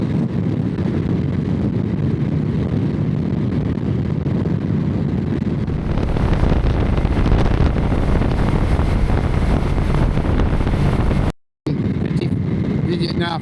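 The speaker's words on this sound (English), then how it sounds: "The wind is just so terrible." Heavy, constant wind buffeting roars into the microphone while riding a Kawasaki VN900 motorcycle into a headwind, loud and unbroken for the whole stretch, cutting out once briefly near the end.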